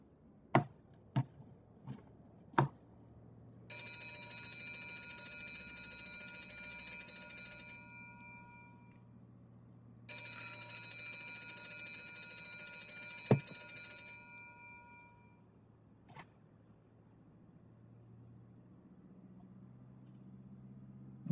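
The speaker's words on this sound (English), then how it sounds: "We'll hear a bell once they're done boarding." A boarding-finished bell aboard the Hindenburg airship in Microsoft Flight Simulator 2020 rings in two long, steady metallic bursts of several seconds each, separated by a pause, over a low cabin hum with a few sharp clicks.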